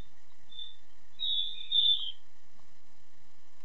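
High squeaking chirps from birds come through a call participant's microphone as a brief whistly burst, faint and thin, against near silence.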